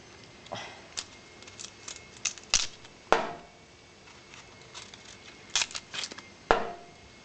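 A knife slicing through the stem of an artichoke, heard as several short, crisp cuts and snaps at irregular intervals, fairly close and quiet, with no talking.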